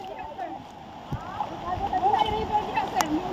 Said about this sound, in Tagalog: Apaw na ang Mako River, no?